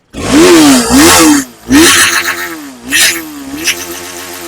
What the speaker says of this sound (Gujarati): અને મિત્રો રેસ આપીને પણ તમને હું વોઇસ સંભળાવી દઈશ ગાડીનો